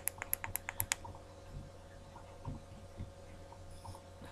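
Power button of a Totally Wicked Tornado V3 e-cigarette clicked about five times in quick succession, sharp close clicks in the first second, followed by faint hum and quiet room noise.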